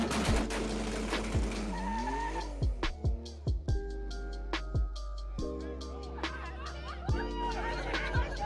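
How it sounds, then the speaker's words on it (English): An Acura NSX fitted with a Pride exhaust drives hard with its tires skidding, the engine note rising and falling between squealing tire bursts, loud and close with faint background chatter. "the last and final thing that I love about my Acura Nsx, it's the sound that these cars produce"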